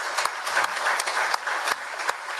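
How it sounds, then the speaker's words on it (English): An audience at a memorial service claps for Marines on the Marine Corps' 250th anniversary, a steady, full round of applause with sharp individual claps standing out over the dense crowd sound. "Let's give these Marines a round of applause."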